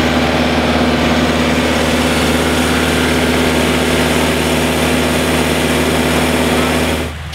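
A tractor engine idles close by at a farm produce operation, a loud, steady hum with a firm low tone that runs unbroken until it drops away abruptly at the end.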